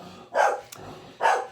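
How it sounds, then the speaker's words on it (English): A dog barks indoors, two loud distinct barks spaced about a second apart, close by with a quiet room in between. "Sawyer, when he starts barking, he just does."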